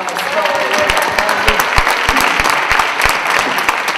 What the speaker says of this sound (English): Yeah, give her a round of applause.